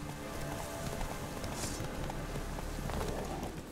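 Horse hooves clip-clopping at a quick, steady pace, close and continuous over a thick wash of ambience from the video game The Witcher 3, no voices.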